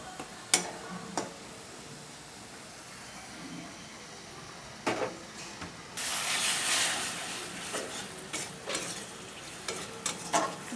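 Spice paste of green chilli fries and sizzles in a pan with water as a spoon stirs it, scraping strokes landing in irregular bursts over a steady hiss, with a louder sputtering surge midway.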